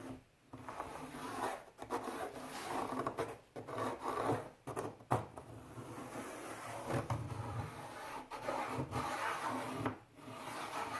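A pencil tracing an outline onto a simple PVC teardrop camper door held by gravity clamps, giving a close, dry rubbing scrape in uneven strokes with brief pauses and a few knocks.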